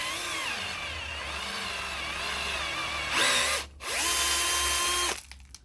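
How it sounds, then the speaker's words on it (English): A hand drill bores into a Suzuki GT750 engine part through a collar guide, a steady whining drone from start to finish with a brief dip near the end as it eases off and spins back up, close and loud, with no talking. "And then just drill in."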